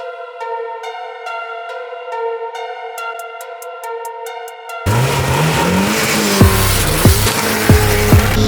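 An old Moskvich races a Porsche Cayenne, its engine roaring loud and close under a dense wash of noise, with sharp squeals and pops toward the end after a stretch of sustained tonal hum.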